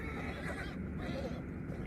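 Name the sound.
horses neighing, audiobook sound effect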